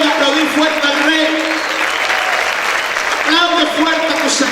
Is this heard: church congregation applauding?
yes